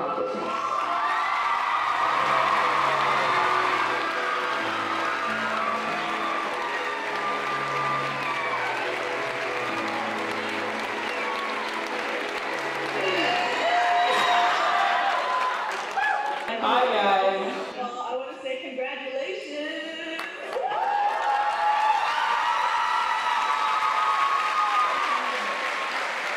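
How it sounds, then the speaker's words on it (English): Audience at a girls' basketball award presentation applauds as the winner comes up on stage, sustained clapping with some cheering and whoops, while a voice speaks over the crowd partway through. "so everyone can give you a round of applause for your accomplishments"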